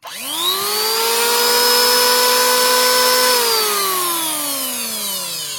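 MASAKI two-blade, 3-inch, 870-watt electric wood planer running, a loud steady motor whine that spins up fast, holds for a few seconds, then slowly winds down, with no voices.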